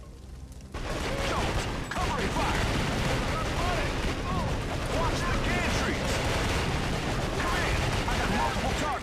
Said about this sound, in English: An incoming fire from all directions.